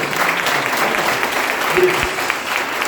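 A church congregation at a youth service bursts into steady applause, continuous clapping filling the room, with a voice faintly audible beneath it.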